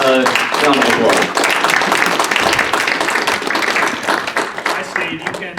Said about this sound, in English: Come on out and give Patrick a round of applause.